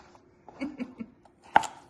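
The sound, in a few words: chopping vegetables for a summer salad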